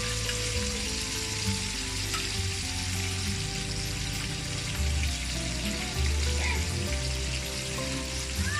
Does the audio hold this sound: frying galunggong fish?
yes